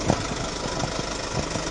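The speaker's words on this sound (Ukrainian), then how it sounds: "Давайте Заглушіть мотор, будь ласка." A car engine idles steadily at close range during a roadside border guard stop, a low even rumble with faint rhythmic knocking pulses and no voices over it.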